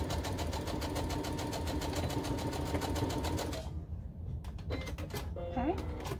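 A sewing machine back-stitches a fabric tote bag, running in a steady rapid whirr for several seconds up close, then stopping, followed by clicks and handling sounds, with a voice heard briefly.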